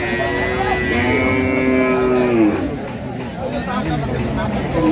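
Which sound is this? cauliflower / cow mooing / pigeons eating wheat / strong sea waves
cow mooing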